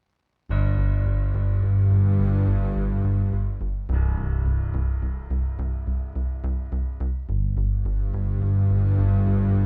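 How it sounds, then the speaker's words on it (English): A pulsing synth from a Trillion patch throbs steadily over sustained electric and string basses in a cinematic classical-style string arrangement, loud and continuous with a rhythmic pulse that briefly drops out and returns. "this synth pulsing, which is from a Trillion patch"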